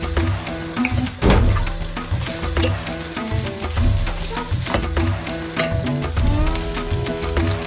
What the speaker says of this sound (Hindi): इसको 1 मिनट के लिए चिकन के साथ अच्छे से टोस्ट करेंगे।